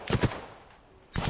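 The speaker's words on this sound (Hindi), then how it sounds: "ये देखिए गोलियां चल जाती हैं यहां पर" Gunfire in war trenches: two quick, loud shots in close succession, a short pause, then another sharp burst of fire.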